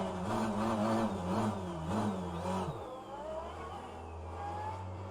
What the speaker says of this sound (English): Let's start the engine and